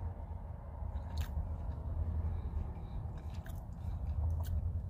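Someone chewing Jack Link's Fritos chili cheese beef jerky close up, with steady soft wet mastication and occasional faint clicks of teeth, no talking.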